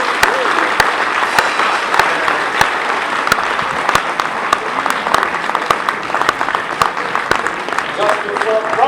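An audience at a university convocation and award ceremony applauds steadily, dense sustained clapping from a large crowd filling the hall throughout without pause.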